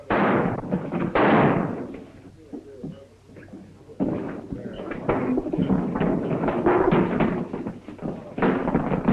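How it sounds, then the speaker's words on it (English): Several sharp gunshots ring out from a back door in a 1939 crime drama, with a few loud broadband bangs spaced seconds apart amid room noise and muffled voices. "The shots came from the back door."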